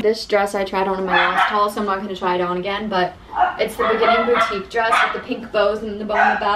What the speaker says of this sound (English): I'm so sorry about my dogs barking.